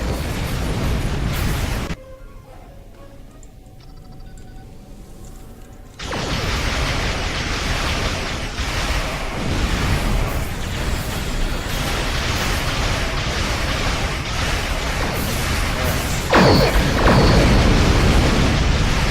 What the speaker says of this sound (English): Somebody was firing off a lot of torpedoes from the sound of it.